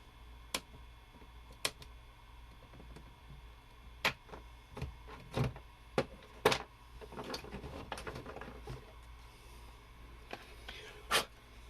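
Cutters snip excess component leads off a circuit board inside an adapted Fisher Price Sloth toy, giving several sharp, separate clicks at irregular intervals against a quiet room.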